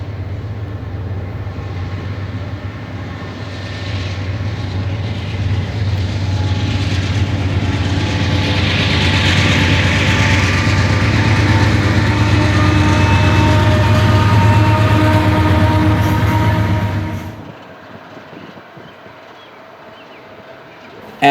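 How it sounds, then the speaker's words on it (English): Union Pacific westbound light power locomotives rolling off a river bridge near Omaha, a steady loud diesel rumble with strong low engine drone and rail noise that holds for about seventeen seconds, then drops off abruptly. "Our first train comes in the form of westbound light power, rolling off the river bridge and beginning to climb out of the river valley"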